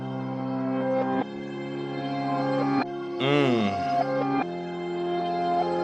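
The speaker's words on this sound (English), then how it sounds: "I could also hold down and reverse the keys." A looped MPC 3.0 beat of layered, sustained keys, with a reversed-key swell sweeping in for about a second near the middle before the steady pattern returns.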